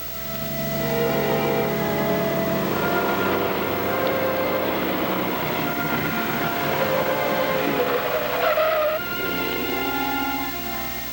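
Car driving with a loud sustained engine and tire roar over about eleven seconds, rising into a squealing skid near the end before the motion settles, part of a radio drama, no talking.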